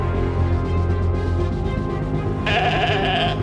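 Sheep bleating over a steady low background, with a brighter, higher bleat entering near the end and running to the close.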